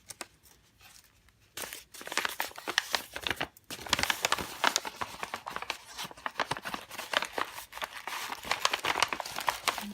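A paper envelope is torn open and crinkled by hand at close range, with a sustained rustling, tearing sound after a quiet start.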